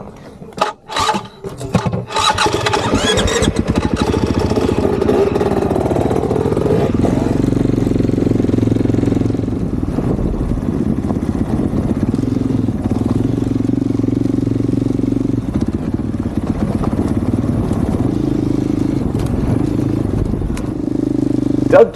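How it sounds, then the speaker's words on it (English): A Husqvarna 450 four-stroke dirt bike with a Rekluse clutch runs through the Arizona desert, its engine droning loud and steady close by with rising and falling revs and rattly wind noise throughout. "After testing both, I chose the Husqvarna 450 4-stroke that also had a Rekluse clutch"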